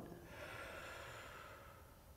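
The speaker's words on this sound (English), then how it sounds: "you'll notice that I breathed out through my mouth slowly as my shoulders came down" One slow, audible breath out through the mouth during a spine stretch, a soft airy rush lasting about two seconds, close and quiet with no talking.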